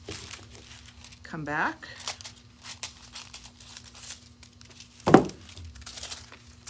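Metallic craft foil crinkles as it is handled during a foil-adhesive crafting session, with one short crackling burst and a sharper crinkle later, both under steady conversational talk.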